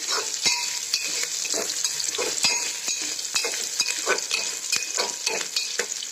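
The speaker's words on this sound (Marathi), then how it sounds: "आता कांदा चांगला भाजायला आहे" Onion frying in a pan with chilli, turmeric, black masala and coriander powder for a tur dal and rice khichdi, giving a steady bright sizzle with repeated sharp scrapes and clinks of a spoon stirring at close range.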